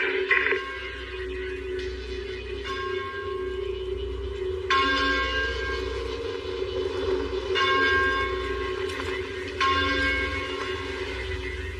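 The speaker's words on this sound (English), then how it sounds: "Is that a church bell?" A church bell rings repeatedly at a slow, regular pace, each strike ringing out and fading under a low steady hum, no voices.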